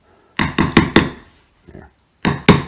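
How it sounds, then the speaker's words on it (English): A hammer taps a stiff ratchet, four quick close metallic strikes in a row, a faint light tap, then two more sharp hits. "give this a good couple of taps with a hammer or substitute"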